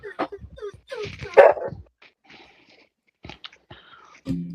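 Young one-year-old male dog barking and whining in agitation, short yips and whimpers in bursts near the start and again at the end, with a quiet gap between.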